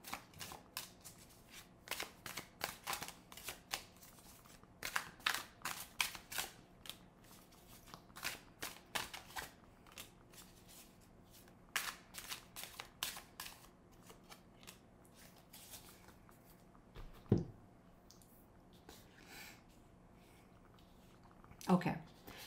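Tarot cards are shuffled in bursts of crisp riffling and flicking, close and fairly quiet, with short pauses between rounds and a couple of sharper knocks.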